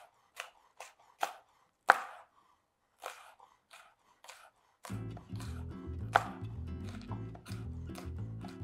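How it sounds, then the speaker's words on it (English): A knife chops vegetables for pico de gallo into small pieces, sounding as sharp, separate board knocks near the mic. They are sparse at first, then come faster over background music. "So you're getting them small chops."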